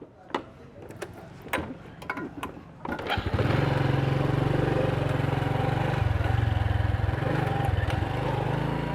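A Honda Blade motorbike in Vietnam starts after about three seconds of clicks and handling noises, then its small engine runs loud and steady at close range through to the end.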